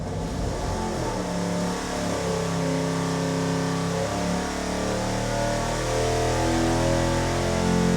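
Race engine revving hard on a dyno, a loud continuous roar that holds and climbs steadily, close and unbroken with no talk.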